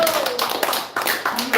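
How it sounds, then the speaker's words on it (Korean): A church youth group at a Sunday service claps together in a quick, dense patter, close and loud, with voices mixed in. "박수 한번 쳐."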